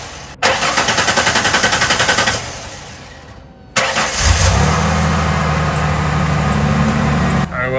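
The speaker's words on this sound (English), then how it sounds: "I'm gonna try to start it right now, just make sure everything's working." A Ford Ranger engine cranks with a rapid, rhythmic starter chatter, pauses, then catches and settles into a steady close idle after its fuel pump replacement.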